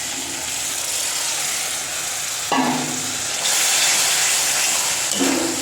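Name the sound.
frying ginger, garlic, tomato and chilli paste in a pan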